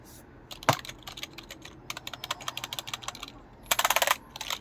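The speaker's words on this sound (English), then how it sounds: "Let's type something." Typing on a membrane computer keyboard makes scattered clusters of soft, close key clicks, with a faster burst near the end and no talk.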